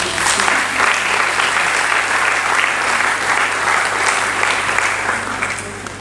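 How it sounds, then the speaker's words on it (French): A steady wash of applause from an audience at a francophone association's event, dense and even clapping that fills the room, easing slightly toward the end. "Alors applaudissez pour vous-même."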